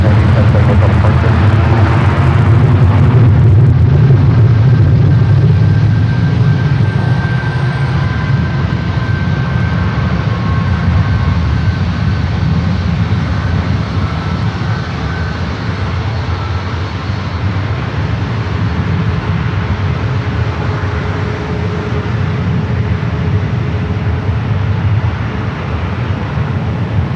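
A 27-year-old Boeing 757 jet taking off at San Francisco airport, a steady broad engine roar that stays loud and sustained throughout, with a faint tonal whine above.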